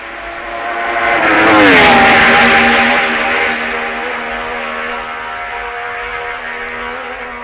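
A 1966 MV three-cylinder racing motorcycle screams past on the Isle of Man TT course, loud and close, its high-revving exhaust note rising toward the crowd and dropping in pitch as it passes and fades into a sustained drone.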